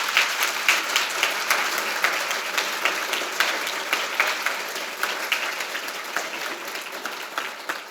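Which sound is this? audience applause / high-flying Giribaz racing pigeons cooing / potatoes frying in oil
audience applause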